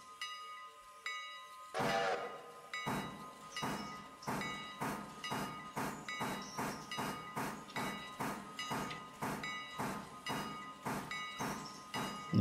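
Train wagons rolling along rails in the railway video game Railroader: a steady, evenly paced clatter of wheels over rail joints, loud and close, with metallic ringing overtones and no voices.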